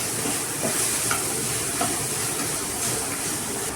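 Ground masala sautéing in a pan for capsicum rice, a continuous hissing sizzle with faint occasional scrapes of stirring.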